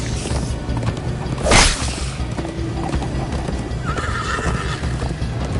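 Hooves pound in a fast, steady clip-clop rhythm throughout as a horse gallops in Minecraft: Story Mode, with a horse whinnying partway through over a dense, rumbling background.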